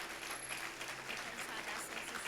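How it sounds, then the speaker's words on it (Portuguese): Congregation in a church claps together in a continuous, even round of applause, many hands blending into a dense rattle that holds steady for the whole stretch, heard from within the room. "Você pode dar uma salva de palmas pro Senhor por causa disso?"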